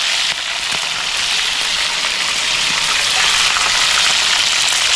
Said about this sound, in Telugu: ఆయిల్లో చికెన్ వేసుకుంటున్నాం